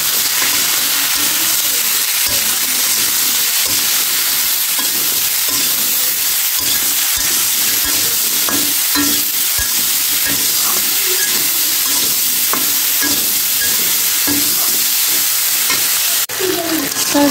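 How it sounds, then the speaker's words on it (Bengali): Mixed vegetable curry with cumin seeds and spices sautéing in a pan, a loud, close, continuous sizzle and hiss with intermittent stirring scrapes and knocks. "তরকারিটা আমি কষে নেই।"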